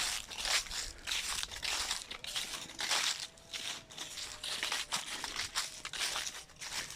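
Pruning shears, small and large, cutting branches in an orchard or garden, giving repeated crunching, crackling snips and twig rustles at close range, with no talk.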